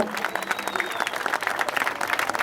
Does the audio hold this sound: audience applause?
yes